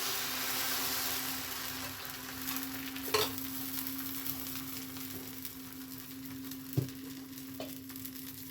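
Mysore-style avalakki dosa batter sizzles on an oiled stone griddle: a steady, even hiss at moderate volume with a couple of sharp clicks and pops partway through, and no voices.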